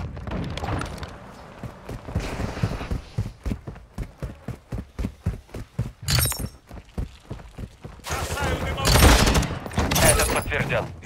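Rapid gunfire in multiplayer Call of Duty Modern Warfare 2, a long run of evenly spaced automatic bursts, then heavier clustered shots and crashing impacts near the end, with some speech mixed in.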